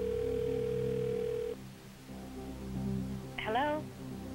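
A telephone line rings for a phone-a-friend call on a game show, with a steady tone cutting off, a pause, then a short ringing burst over a soft studio background.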